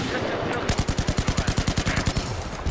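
Rapid automatic gunfire in Battlefield 4, a sustained burst of about twenty evenly spaced loud shots over roughly two seconds, close and prominent over faint game ambience.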